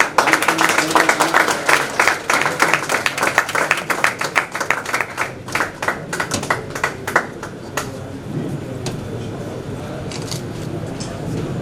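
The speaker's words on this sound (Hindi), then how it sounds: "तालियों की गड़गड़ाहट बहुत कम है।" At a blood donation camp held at a medical college in Banda, the audience claps in a burst of fairly close, lively applause that thins to scattered claps and dies away toward the end, with speech over the top.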